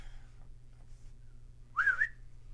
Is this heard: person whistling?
yes